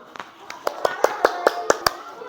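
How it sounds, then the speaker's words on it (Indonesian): A classroom of pupils claps for the first group in a short burst of about nine distinct hand claps, fairly close and moderately loud, with faint room noise between them. "tepuk tangan buat kelompok 1"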